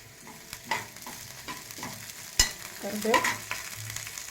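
Curry leaves hit hot oil in a pan of frying ridge gourd peel chutney, crackling and sizzling quietly with a few sharp pops and stirring scrapes.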